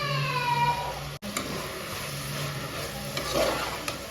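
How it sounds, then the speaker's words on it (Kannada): Fenugreek and coriander leaves fry in a pan for a vegetable pulao, sizzling steadily up close with stirring scrapes and a short whining tone at the start. "ಇದೆಲ್ಲ ಚೆನ್ನಾಗಿ ಹಸಿ ವಾಸನೆ ಎಲ್ಲ ಹೋಗಿ ಫ್ರೈ ಆಗಬೇಕು"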